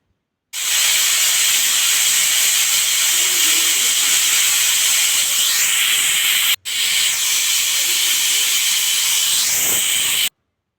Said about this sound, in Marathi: कुकरच्या दोन शिट्ट्या झालेल्या आहेत